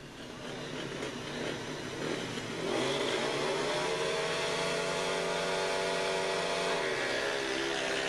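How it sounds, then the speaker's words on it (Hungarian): Jawa speedway motorcycles racing at a Continental final in Debrecen, a continuous loud engine roar that swells and rises in pitch as the bikes accelerate past, dense and unbroken with no talk. "A versenyzők zöme jáva motorokon versenyez"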